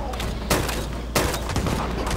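A super mutant firing a gun in Fallout 76: two distinct loud shot bursts about half a second apart, over a continuous busy in-game background, with no speech.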